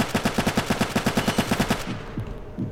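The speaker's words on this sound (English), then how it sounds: "Who's shooting? I hear you." Automatic gunfire in the Roblox game Vanguard, a rapid even burst of about fifteen sharp shots lasting under two seconds, then a few scattered softer reports.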